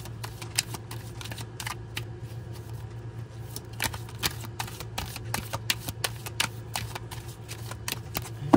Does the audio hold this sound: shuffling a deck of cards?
yes